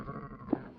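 A young lamb gives one short, soft bleat, close by, over faint background hum.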